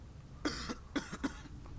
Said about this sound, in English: Got some coughing going on.